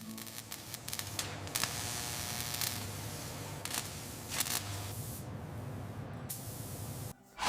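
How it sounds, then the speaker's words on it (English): Robotic spray arms painting a heavy motorcycle in a factory, a continuous hissing spray broken by short pulsing bursts and a few abrupt stops, fairly close and even in level. "The bike is cleaned, primed, and painted by robotic spray arms."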